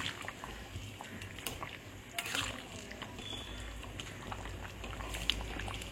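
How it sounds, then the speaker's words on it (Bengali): Chicken curry broth bubbles at a low, steady boil in a pot, soft gurgling and popping close by with a few brief clinks, fairly quiet throughout. "ঝোলটা ফুটে উঠেছে"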